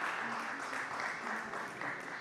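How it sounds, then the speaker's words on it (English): A conference hall audience applauds the CEO of Sofia Tech Park as he is invited on stage, with steady, faint clapping throughout. "Big applause, Todor."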